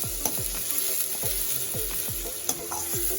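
Sliced onions with rock salt fry in a pan for curd chicken, a bright steady sizzle cut by quick, regular scraping strokes of a spatula close by.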